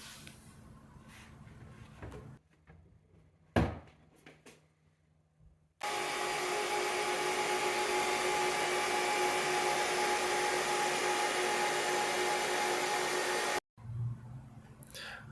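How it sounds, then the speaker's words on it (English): A Goldshell HS6 cryptocurrency miner runs with a loud, steady, broadband fan roar that starts abruptly, holds for about eight seconds and then cuts off, with quieter clicks and handling sounds before and after. "I'm pretty happy with how loud the miner actually is."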